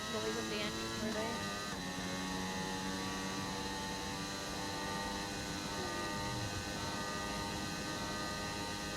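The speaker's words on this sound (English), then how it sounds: "I just love the noise of the engine really." A racing car engine in a racing video game set in China drones with a steady, buzzing tone, its pitch sliding between gears as the car runs continuously at a moderate level.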